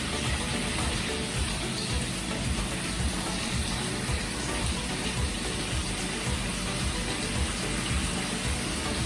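Sliced potatoes for aloo katli sabzi cook in a pan over a medium flame, giving a soft, even sizzling hiss that stays steady throughout, fairly quiet and with no voices.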